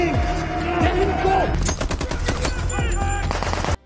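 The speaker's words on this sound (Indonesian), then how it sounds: "tim kepolisian di bawah pimpinan Khalid menyergap lokasi tersebut hingga baku tembak pun terjadi." Dense bursts of rapid gunfire crackle through a movie shootout between police and a cartel, loud and sustained over music and a few voices, cutting off abruptly at the end.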